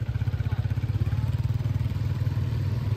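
A motorcycle engine runs close by with a steady, pulsing mid-pitched drone and slight clatter, holding loud and even for a few seconds as it passes.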